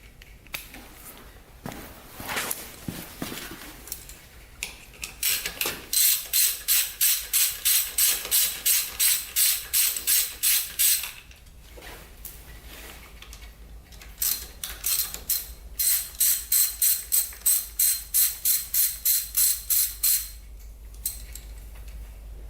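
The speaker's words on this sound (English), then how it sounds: "We're gonna take off that plastic guard before we do that. Grab the old 8 mil." An 8 mm socket on a ratchet wrench loosens the bolts holding a dirt bike's plastic guard, with two long runs of rapid, loud clicking ratchet strokes. Handling noises fill the gaps between the runs.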